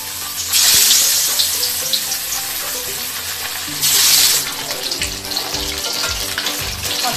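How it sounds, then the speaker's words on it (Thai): Flour-coated egg tofu frying in hot oil in a pan, a loud, dense hissing sizzle that surges twice into brighter bursts as pieces go in, close up, with no voices. "จากนั้นก็นำเต้าหู้ไข่ค่ะ เอามาชุบนะคะแป้งแล้วก็นำมาทอด"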